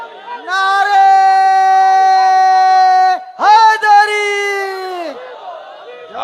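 A crowd at a Shia religious majlis chants slogans in loud, sustained, voiced calls that break off briefly near the middle and then resume before fading.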